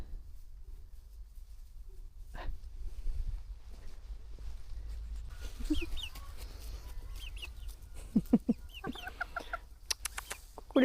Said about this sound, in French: Coucou les poules.